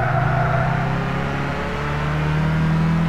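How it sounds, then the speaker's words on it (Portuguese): Renault Clio RS engine in the Gran Turismo 6 racing game, a steady loud drone of revving and road motor noise running continuously throughout with no talk over it. "Hoje eu vou tentar falar menos para vocês ouvir mais o barulho do motor do carro."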